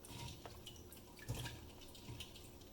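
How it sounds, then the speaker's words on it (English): A peeled boiled egg rinsed under a kitchen tap, faint running and dripping water with a few soft splashes, quiet and close, no voices. "Rinse off the egg."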